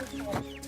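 Chickens cluck nearby in a vegetable garden, with a short burst of clucking standing out against a low background hum.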